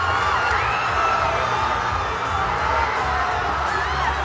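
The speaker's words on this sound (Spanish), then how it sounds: "apareció el grito de gol que estaba reprimido desde el partido ante Venezuela" Football fans in a stadium crowd roar and cheer loudly without a break after a goal in a Colombia match, with whoops and shouts rising from the dense mass of voices.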